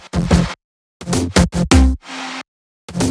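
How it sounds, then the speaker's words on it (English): Layered bass house drop lead built from a wide main lead, a centered lead layer and another lead layer, sidechained and run through EQ, Oxford Inflator and Cashmere Essentials; loud punchy stabs in a choppy rhythm with gaps, plus a held buzzy note. "Drop lead sounds like this."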